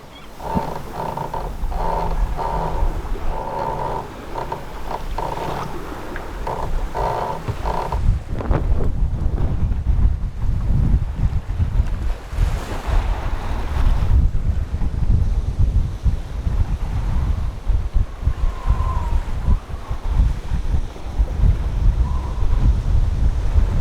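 Strong wind roars across the microphone while waves rush and slap against a sailboat's hull as it beats upwind at about six knots through gale conditions in the Gulf of Alaska, a continuous loud, blustery wash with no talking.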